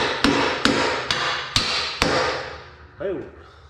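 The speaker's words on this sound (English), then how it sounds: "Grab a hammer." Five sharp hammer blows on wood at a steady pace, close and loud, driving a dowel while fitting axle swap brackets on a Ford truck, followed by a brief voice.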